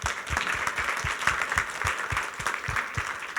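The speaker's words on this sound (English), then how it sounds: "Let's raise the last round of applause to our speakers." Audience applause closing a sensing, tracking and recognition panel session at the UbiComp/ISWC 2023 conference: steady, dense clapping from a sizable crowd, sustained and even throughout.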